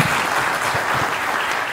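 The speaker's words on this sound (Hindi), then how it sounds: "एक बार जोरदार तालियां अपने पेरेंट्स की।" Medical graduates at a convocation ceremony in South Kazakhstan applaud loudly, a dense, steady roar of many hands clapping throughout with no speech.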